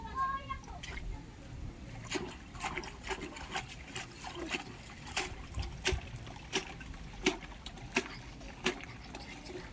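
Water trickles and splashes while soil is rinsed from an adenium plant's roots, with soft intermittent drips and small splashes at moderate distance under faint background noise.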